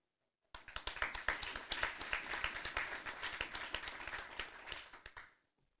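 An audience at a Bavarian Pirate Party New Year's reception breaks into steady, dense applause that starts abruptly, holds at even strength for several seconds, then fades quickly, with no talking over it.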